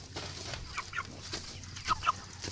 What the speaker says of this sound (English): There's a big bird.